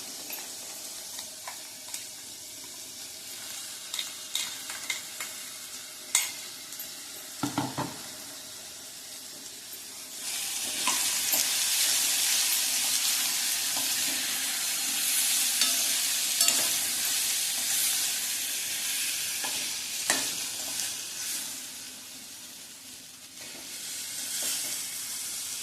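Ground spice paste, the fresh masala for a fasting-style ragda, goes into a hot pan and is stirred, giving a loud steady frying sizzle and hiss after a few scraping spoon knocks, with no voices.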